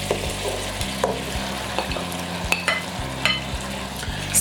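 Cameroonian garden egg stew with njanjamoto being stirred in a pot, soft scraping strokes and gentle bubbling sizzle repeating every second or so, close up and without talk.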